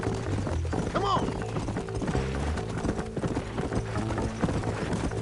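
Horses' hooves clip-clop steadily while riding in the Red Dead Redemption video game, set against a busy game mix with music, a brief whinny and voices talking.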